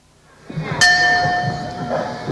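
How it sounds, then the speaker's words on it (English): A single bright bell strike opens a round of a five-round women's fight bout, ringing out and slowly fading over a murmur of arena crowd noise. "Bell sounds to start our third round of a 5-round bout tonight"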